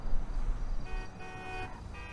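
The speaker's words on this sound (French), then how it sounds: "en train de me klaxonner parce que je bouge pas" Car horns honk at a stalled player in a video game roleplay street scene: a couple of sustained horn tones sound over a low engine rumble, moderately loud, with no talk.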